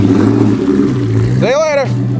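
A car pulls away from a 2017 car meet at Rocky Gap, its engine rumbling steadily and rising in a short rev near the end, with people talking over it.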